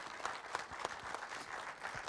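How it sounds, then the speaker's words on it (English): An audience applauds the panellists at an LGBTIQAP+ awareness panel, a steady, fairly distant patter of many hands clapping throughout. "If you give them a round of applause, please"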